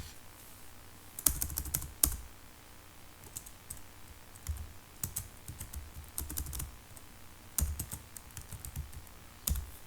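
Fingers type on a computer keyboard while entering text in MS Word, sounding as quick bursts of light clicking keystrokes separated by short pauses, close and fairly quiet, with no talking.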